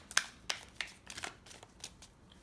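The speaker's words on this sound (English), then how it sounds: "And then I shuffle one last time." Tarot card deck being shuffled by hand, a handful of quick soft riffling bursts spaced about a third of a second apart, close and quiet, with no talking.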